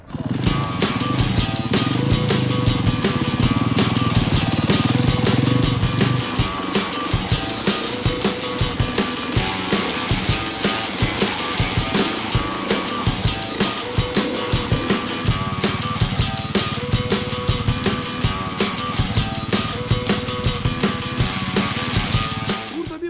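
Enduro motorcycle ridden slowly with its engine running steadily throughout, loud and close, the engine note pulsing rhythmically with throttle changes.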